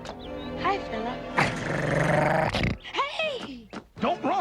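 A dog growls and snarls at a person who tried to pet it, rough close growls alternating with excited voices reacting around it.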